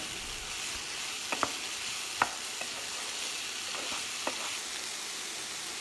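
Vegetables frying in a pan with a soft steady hiss of sizzling, punctuated by a few light clicks of a spatula stirring, faint and close with no talk.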